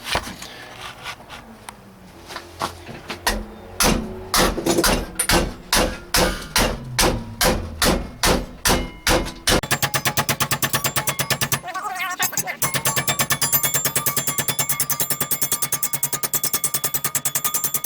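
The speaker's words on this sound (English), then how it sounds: "I'm using a machinist hammer of some sort, forge hammer, but I'm going to knock this down real slow" Metal is struck repeatedly with a machinist's forge hammer on sheet metal for a 1968 AMX trunk patch, slow evenly spaced clangs that gradually speed up into rapid rhythmic pounding, loud and close.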